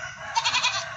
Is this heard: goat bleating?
yes